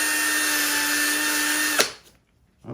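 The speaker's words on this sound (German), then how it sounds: "damit bohre ich mir jetzt hier mal ein Loch durch diesen Stiel durch" A power drill fitted with a 4 mm bit bores through the stalk of a corn cob, a loud, steady high whine that stops sharply partway through, followed by near silence and a brief handling noise.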